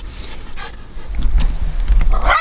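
Close-up dog sounds: soft whimpers and breathy panting, rising toward a brief higher yelp at the end.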